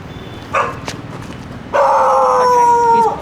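A dog howls in a long, rising wail outdoors at night near a bridge in Pune, India, starting with a short yelp, then swelling into a sustained, fairly close tone that holds for over a second.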